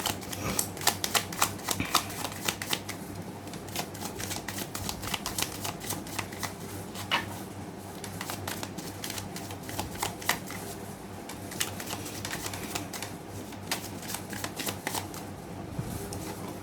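Tarot cards shuffled for a reading make a steady, close riffling and flicking patter that runs on continuously, with soft rapid clicks and no talking.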